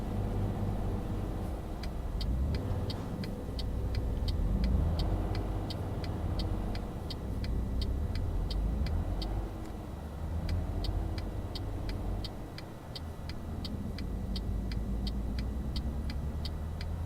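Truck engine in Euro Truck Simulator 2 droning steadily on the road amid traffic, a low continuous rumble with a regular ticking like an indicator clicking across most of the clip; no speech.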